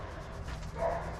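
A single short dog bark, fairly close, over a steady low background hum.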